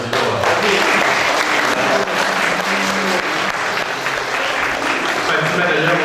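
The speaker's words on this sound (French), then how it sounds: "vous pouvez applaudir Fatima" A crowd at a Miss Picardie 2019 pageant applauds for a contestant, sustained loud clapping with a voice talking over it.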